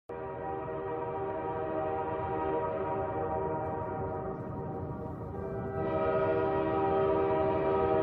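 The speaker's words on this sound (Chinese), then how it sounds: "火车已经进车站" A train arriving at a station sounds a long, sustained horn that holds steady, then steps up louder partway through, with no talking.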